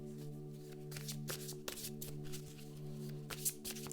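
Tarot cards being shuffled by hand, several quick papery riffles and slides in short bursts over a low steady hum, close and fairly soft.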